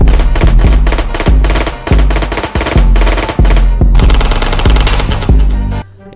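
Loud automatic gunfire from switch-equipped guns in the Roblox-style game The Bronx 2 rattles in rapid, continuous bursts with punchy low thuds, pausing briefly before another sustained volley, then cutting off abruptly.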